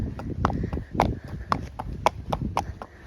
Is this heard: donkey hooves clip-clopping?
yes